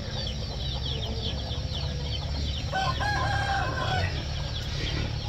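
Chickens cluck and a rooster crows in a farmyard, the crowing rising clearly midway over a steady background of clucking hens and low ambient rumble.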